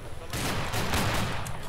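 A Civil War reenactment line battle in which a volley of musket fire cracks out loud and close, with overlapping shots fired over a couple of seconds.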